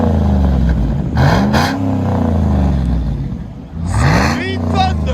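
A 2012 GMC Yukon XL Denali 6.2L V8 with an American Thunder aftermarket exhaust idles, then revs up sharply twice with a deep exhaust rumble, close by, while people talk over it.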